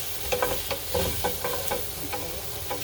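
Shrimp with oyster sauce sizzle in a hot pan while being stirred, a steady frying hiss broken by rhythmic scraping strokes, close and moderately loud.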